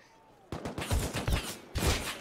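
AK rifle fire in the video game Rust: sharp, close bursts of gunshots crack in quick clusters after a brief quiet start, with a heavier volley near the end.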